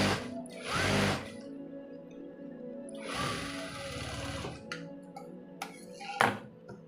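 Sewing machine stitching a blouse lining, running in two main bursts near 1 s and 3–4.5 s with short mechanical ticks and clicks between, close and fairly quiet.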